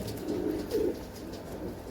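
Several pigeons kept by a Punjabi pigeon fancier give low, rolling coos, two fuller phrases standing out early, over a steady soft background hum.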